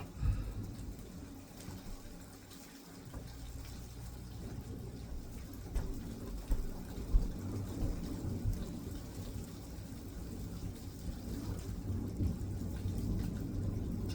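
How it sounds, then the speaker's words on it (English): Steady rain falls outside with low rumbles of thunder rolling beneath it, a continuous wash of sound that swells slightly toward the end. "It's raining, guys."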